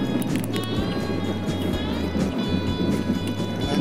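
A Toyota Vios Limo third-generation engine runs steadily up close, a continuous loud hum with faint periodic pulsing and no voices over it.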